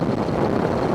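Wind buffeting the microphone on a motorcycle cruising around 40–45 mph on a breezy day, a close, steady low roar with no pauses.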